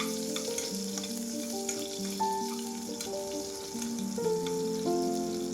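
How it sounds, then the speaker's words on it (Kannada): Crushed garlic and mustard seeds fry for tomato sambar with a loud, steady sizzle close by, and an overlapping hum of tones runs underneath. "ಬೆಳ್ಳುಳ್ಳಿ ಎಲ್ಲ ಸ್ವಲ್ಪ ಚೆನ್ನಾಗಿ ಫ್ರೈ ಮಾಡ್ಕೋಬೇಕು."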